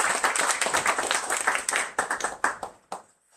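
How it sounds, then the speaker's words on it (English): An audience at a Los Angeles book launch breaks into applause, a burst of many hands clapping close and lively, thinning into a few last claps before fading to near silence. "a round of applause for Myriam"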